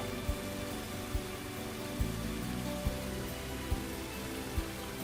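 Heavy, steady rain falls in the video game Angel's Tale, a dense continuous wash with soft periodic thumps, heard alone with no voices.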